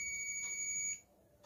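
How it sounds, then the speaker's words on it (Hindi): A digital multimeter emits a steady high-pitched continuity beep while its leads are on a filter capacitor under test; the tone holds for about a second, then stops. "तो बीप की आवाज़ आने के बाद जो रीडिंग आ रही है"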